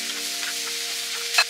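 Shrimp sizzle and fry in a hot pan with oil and red pepper flakes, a steady close crackling hiss that runs throughout with a brief louder spatter near the end.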